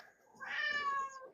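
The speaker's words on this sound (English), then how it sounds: "That's the cat." A cat gives a single drawn-out meow, fairly close and moderately loud, rising then falling, with no talk over it.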